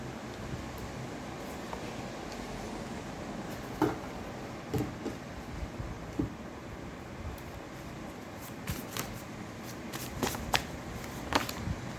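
Cards are shuffled softly at close range, with faint scattered flicks and rustles over a steady background hiss.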